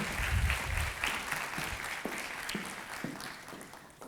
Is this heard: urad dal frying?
no